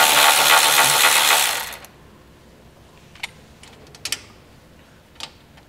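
Socket wrench loosening an 11 millimeter bolt on a 2022 Ford Escape during trailer hitch installation, with a few sharp ratcheting clicks and metallic ticks after a burst of broadband noise.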